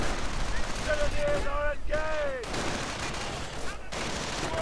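Kar 98K rifles fire in a Company of Heroes battle between Grenadier squads, a dense, steady crackle of gunfire with brief whistling tones layered over the fighting.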